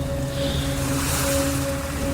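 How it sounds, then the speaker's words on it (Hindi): Deafening sea waves surge around a wooden ship deck, a dense, continuous roar of surf and wind with a steady low tonal hum underneath and no pauses. "समंदर की कान के पर्दे फाड़ देने वाली आवाज के साथ लकड़ी के फट्टे की आवाज दब सी रही थी"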